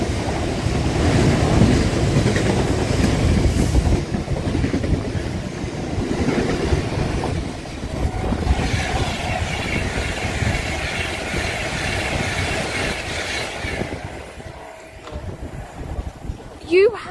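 A Class 66 locomotive hauls a long rake of freight wagons past Rugeley Trent Valley. Its loud, close rumble and clattering wagons run for about fourteen seconds before easing off, with voices heard at times.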